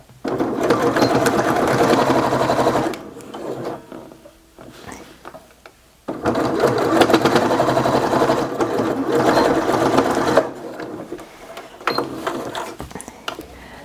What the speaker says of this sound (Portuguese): começa a costurar